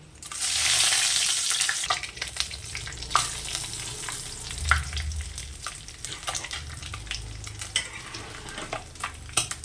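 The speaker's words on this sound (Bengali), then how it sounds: "এবার মাছের তেলের মধ্যে দেবো তেজপাতা এবং জিরে।" Sudden loud hiss as bay leaves and cumin hit hot oil left from frying rohu fish, settling into steady sizzling with intermittent stirring scrapes and crackles.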